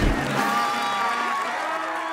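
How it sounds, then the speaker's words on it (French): A cartoon circus audience bursts into applause and cheering for a new trapeze artist, loud at first and then holding steady with whoops over a tonal backing. "Faites un tonnerre d'applaudissements pour notre toute nouvelle trapéziste"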